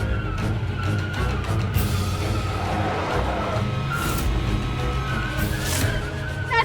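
A car skids to a stop with tires squealing and scraping over a steady engine rumble, loud and sustained throughout, with no talking.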